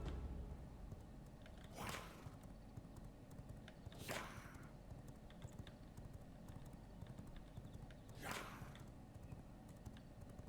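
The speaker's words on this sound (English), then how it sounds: "This horse is so slow." Horse hooves clip-clopping in V Rising as a slow mount walks, three spaced, moderately close hoof strikes over a steady low ambient rumble, no voices.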